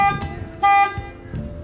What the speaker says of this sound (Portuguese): E aí ele dá o alarme, né? E acende as luzes, fica buzinando e acendendo as luzes aí